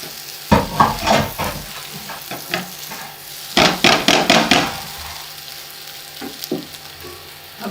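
Potatoes and ingredients lightly frying in a pan while being stirred, with clattering spoon scrapes in two busy bursts over a steady low sizzle.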